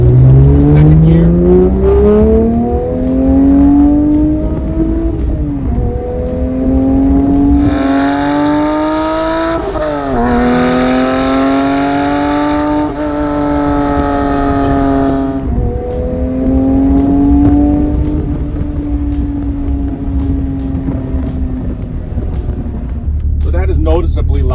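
A Porsche 992 GT3 fitted with Kline headers accelerates hard through the gears, its loud exhaust wailing upward in rising sweeps with brief dips at each shift, close and dominant throughout.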